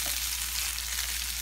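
Onions frying in a covered pot for a Ugandan beef stew, giving a steady, even sizzle that holds close and constant throughout with no talking.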